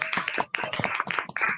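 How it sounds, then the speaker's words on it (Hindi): Enthusiastic applause from an audience at a graduation ceremony as a best student award is announced, dense rapid clapping with a short break midway, fairly close and loud with no talk over it. "जोरदार तालियां बजनी चाहिए"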